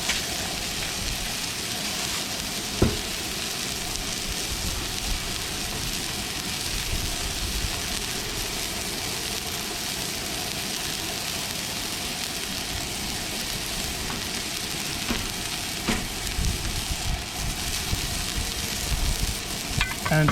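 Smash burgers fry on a Lodge cast iron griddle over a Coleman 425 camping stove, producing a loud, dense, continuous sizzle that crackles steadily throughout with no talking.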